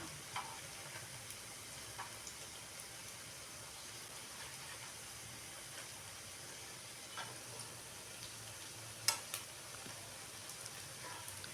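Chilli omelette frying in oil in a pan, a steady soft sizzle running throughout at low level with occasional faint clicks and stirring taps, no talking.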